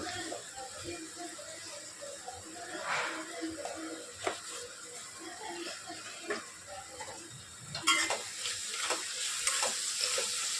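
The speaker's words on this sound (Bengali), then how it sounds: "মশলাটা ভালো করে কষতে লাগবে" Turmeric and Kashmiri chilli spice masala frying and being stirred in a pan for palak paneer, with steady sizzling and scraping, clattering spoon strokes close by.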